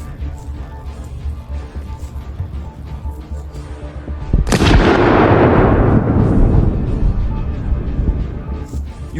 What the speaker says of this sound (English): Ukrainian artillery joined in, striking more APCs.